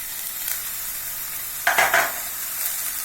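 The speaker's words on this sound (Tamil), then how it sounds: "எல்லாத்தையுமே அப்படியே கொஞ்சம் வதக்கிட்டே இருக்கணும்." Cabbage and beans for a momo filling sauté in a pan with a steady soft sizzle, and a short burst of stirring scrapes comes midway.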